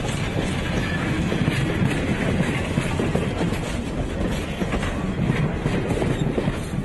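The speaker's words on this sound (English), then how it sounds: "it sounds like the train is picking up speed a little bit" A train led by an Alco RS 32 locomotive picks up speed near a crossing at Bethel, a continuous loud rumble and rattle of wheels and cars with no pauses.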